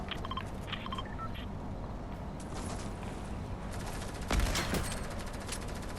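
Gunfire and game effects from a Fortnite duos match, a dense continuous clatter with scattered sharp shot cracks and one heavier burst, steady and busy throughout with no voices.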